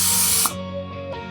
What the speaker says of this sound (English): First, I'm gonna spray it.